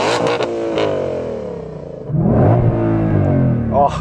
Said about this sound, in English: I'm going to start by revving up this lovely Mustang.